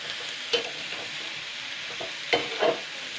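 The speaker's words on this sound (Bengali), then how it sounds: "এবার আমি এটাকে ভালো করে কিন্তু নাড়াচাড়া করে নেবো। এতে কিন্তু অনেকটা পরিমাণে তেল লাগে, কিন্তু তেলটা দিয়ে ভালো করে কিন্তু ভাজতে হবে।" Small shrimp frying in plenty of oil, a continuous soft sizzle with a few distinct spatula scrapes as they are stirred, close by with no voices.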